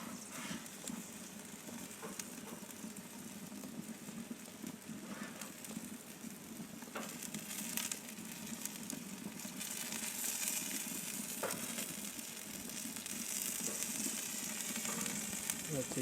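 Food sizzles on an off-grid homestead BBQ grill, a steady close frying hiss with scattered crackles running through the whole stretch, without pause or talk.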